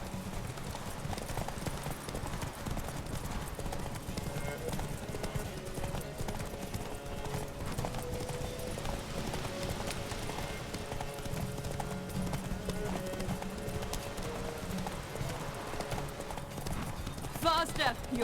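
Steady rhythmic clip-clop of a horse's hooves galloping in the game The Witcher 3: Wild Hunt, carrying through the whole stretch under game music and spoken dialogue.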